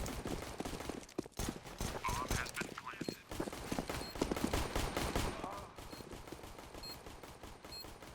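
Rapid gunfire crackles in CS:GO during a bomb-site fight, with dense bursts of sharp shots over several seconds under a commentator's talk.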